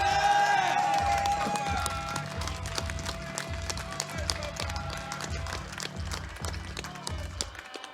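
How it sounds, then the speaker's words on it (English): An audience at a fighting-game tournament's top 8 claps and cheers while a beat-driven music track plays over it, with the clapping rising under the rhythmic music. "can I get one more massive applause, a loud applause for our top 8?"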